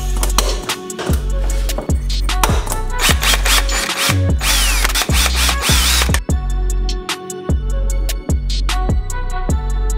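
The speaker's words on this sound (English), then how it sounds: "Now what I think I'm gonna do is now drill a hole in each corner." A power drill works on a BMW E36 M3 interior part, a loud repeated series of sharp bursts and whirring runs with brief gaps between them.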